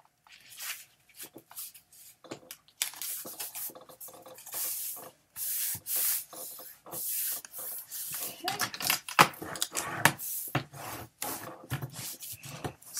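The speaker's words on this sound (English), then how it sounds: "just give that a good burnish" Folded paper edges of a craft folio are burnished by hand, producing irregular bursts of dry rubbing and scraping strokes, close and fairly quiet, with soft pauses between.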